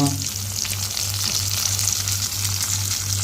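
Ingredients for mint chutney sautéing in a hot pan, a steady, even sizzle and crackle with no talking over it.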